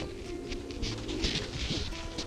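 Racing pigeons recently paired for breeding give soft, low, repeated coos at moderate distance against a murmuring loft background.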